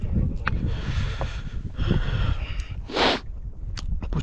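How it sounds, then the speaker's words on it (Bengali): Strong wind gusting across a high Himalayan trek summit on the Hampta Pass trail, buffeting the microphone in rough, uneven bursts with one heavier rushing blast midway. "প্রচণ্ড হাওয়া"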